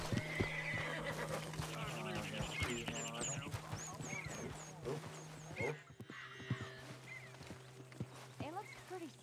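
Horse whinnying in Red Dead Redemption 2, several rising and falling neighs scattered across the scene over a steady low ambient hum, with other animal calls and hoof sounds in the mix and a voice talking briefly.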